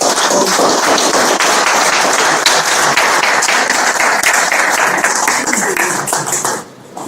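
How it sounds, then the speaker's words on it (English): Sustained applause from an audience at a novel launch, dense steady clapping close and loud throughout before tapering off at the end. "I would like you to give a round of applause for Mr. Bushu Batlomi, my friend."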